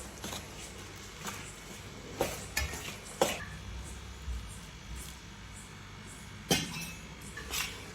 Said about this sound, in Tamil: கொஞ்சம் கொஞ்சமாக ஊற்றி கிளறிக்கிறேன்